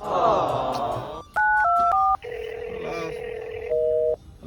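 A phone dials out with a rapid series of keypad tones, then a steady ringback tone plays on with no answer, loud and close, with a voice speaking briefly at the start.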